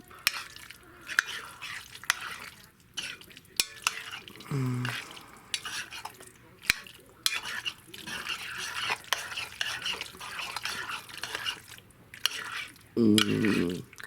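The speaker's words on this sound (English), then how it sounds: "I'm gonna stir this all up" Canned mac and cheese with queso is stirred in a pan, producing wet, sticky squelches and repeated clinks of a utensil against metal, close and uneven, with a voice briefly heard near the end.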